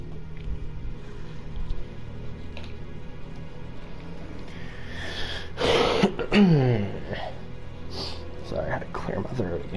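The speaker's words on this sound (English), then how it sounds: "Sorry, I had to clear my throat again." A person clears their throat in a short, harsh burst midway through, close and fairly loud, during a Resident Evil 2 play session, with low game ambience running underneath.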